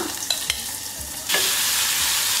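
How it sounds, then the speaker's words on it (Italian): Diced onion, celery and carrot sautéing in extra virgin olive oil, a few utensil scrapes and stirs at first, then a loud, steady close sizzle as the vegetables hit the hot oil. "Ho tagliato a dadini la cipolla, il sedano e la carota e adesso li faccio saltare con dell'olio extravergine d'oliva."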